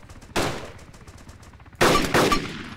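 Two loud bursts of suppressing gunfire in DayZ break out, one short volley and then a longer one, over a quiet low background.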